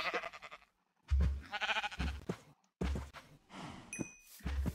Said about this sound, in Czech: Tady máme už první ovečku malou.